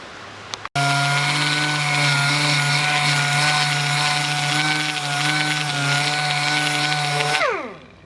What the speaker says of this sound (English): it's clogging the sandpaper pretty good with the plastic getting stuck in it